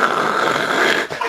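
A voice imitates a dog growling: one continuous, rough, close rumble that holds for more than a second, then breaks off briefly near the end.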